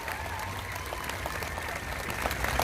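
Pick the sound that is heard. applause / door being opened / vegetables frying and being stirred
applause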